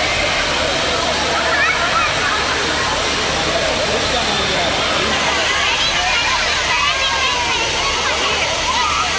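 Water pours down Kovai Courtallam waterfall at a moderate flow as a continuous, loud, broadband roar of falling and splashing water, with faint crowd voices mixed in.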